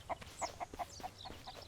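A chicken in the survival video game Mist Survival gives a quick run of sharp, fairly faint clucks, about eight short bursts spaced evenly over a couple of seconds, with no talking.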